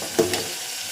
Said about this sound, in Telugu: బీరకాయ ముక్కలన్నీ వేసానండి పోపులో